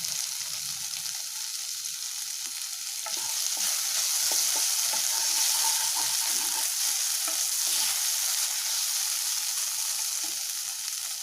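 Chicken sizzles steadily in a hot pan while a spoon stirs it, scraping and clinking at irregular intervals over a continuous close frying hiss.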